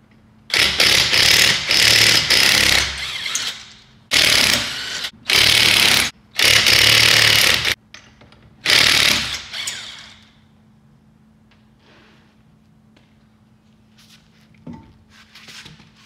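A power tool fires in about six loud, harsh bursts of a second or two each while removing a wheel from an FR-S/BRZ/GT86 car, followed by quiet with faint handling noises.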